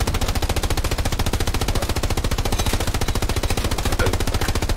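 Tank machine gun fire in Hell Let Loose: a single long, loud, close burst of rapid, evenly spaced shots that keeps a steady rhythm for the whole stretch, with no talk over it.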